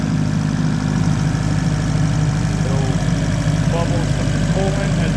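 A Fiat 500 Abarth engine idles steadily while it warms up after a thermostat replacement. The hum is loud, close and even from start to finish, and faint bubbling or tonal chirps come through near the end.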